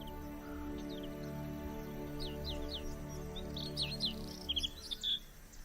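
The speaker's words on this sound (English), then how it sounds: "The extensive reed beds are now home to rare songbirds." Rare songbirds in extensive reed beds give thin, high chirps and short trilling phrases, moderately distant and faint over a low steady hum, growing a little busier toward the end.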